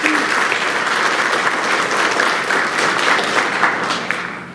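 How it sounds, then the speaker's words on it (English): A crowd at a National Honor Society induction ceremony claps steadily and loudly. The dense applause holds for several seconds and eases slightly near the end. "Please give them a well-deserved round of applause."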